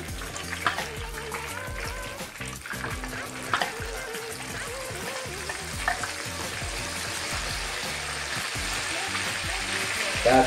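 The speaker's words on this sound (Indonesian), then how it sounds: "Selanjutnya kita akan menggoreng tempe." Tempe frying in hot oil in an Acehnese home kitchen gives a steady sizzle and crackle with occasional stirring clatter, running continuously throughout.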